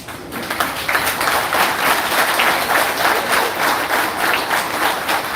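An audience at a political party event applauds party registrars, a dense, loud, continuous wash of many hands clapping together close by, sustained without pause.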